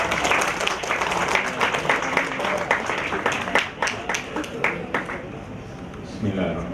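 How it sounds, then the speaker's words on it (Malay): Audience applause at the opening ceremony of the Laman Seni Shah Alam art space, a dense patter of many hands clapping that gradually thins toward the end, with a voice briefly heard beneath it. "Berikan tepukan dulu."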